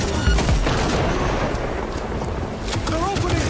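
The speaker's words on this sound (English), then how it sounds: "They're opening fire!" Gunfire rattles in the Cyberpunk 2077 video game during a firefight, a dense, loud barrage of shots mixed with other combat noise and voices throughout.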